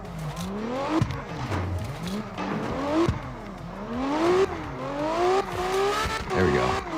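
A car in the CarX driving video game revs hard through repeated gear shifts, the engine pitch climbing and dropping in a steady rising-and-falling pattern, loud and continuous with faint tire noise.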